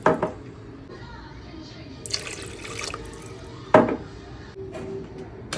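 Water poured from a pitcher onto rice frying in a pot, a short splashing rush that breaks out twice between quieter stretches, with faint kitchen clatter around it.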